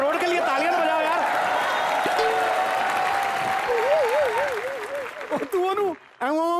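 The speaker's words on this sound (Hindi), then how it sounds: "एक बार अखरोट के लिए तालियां तो बजाओ यार" A studio audience at a comedy talk show claps steadily and energetically, with music and voices weaving over the applause before it breaks up into shorter bursts near the end.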